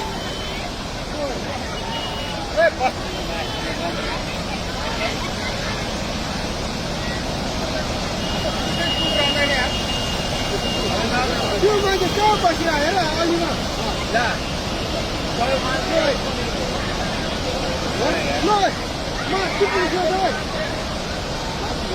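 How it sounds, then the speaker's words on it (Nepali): The flooded Trishuli river at Nuwakot rushes past Trishuli bazaar in a loud, unbroken roar of churning water, with excited voices shouting over it. "खोला कत्रो आयो है"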